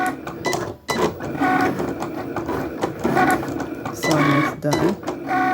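A Cricut cutting machine writes out a name with a pen, giving busy mechanical whirring and rattling bursts of carriage movement close by, while a voice talks briefly over the machine.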